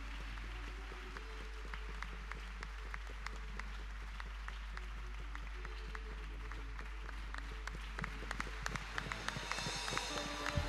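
A church congregation claps steadily, dense rhythmic applause with a low hum beneath and a few scattered voices.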